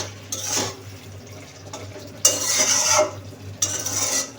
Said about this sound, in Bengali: এদিকে তরকারিটা আরেকটু নাড়াচাড়া দিয়ে দিই।